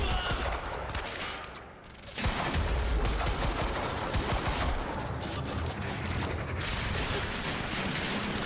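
Light machine gun fire in the video game Quantum Break: a loud, dense, sustained stream of automatic shots with a mechanical rattle. It dips briefly near the start, then roars back and continues without a break.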